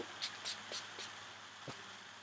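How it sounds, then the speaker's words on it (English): Four short hissing bursts of hairspray in quick succession, close by, followed by a soft thud, with no talking. "And I'm just going to spray that all over."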